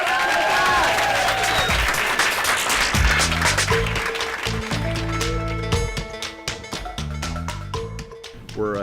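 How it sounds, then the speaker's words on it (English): Audience applause fills a high school event, dense clapping at first that thins as a music bed with steady low tones and beats rises underneath and carries on. "Let's give them another round of applause."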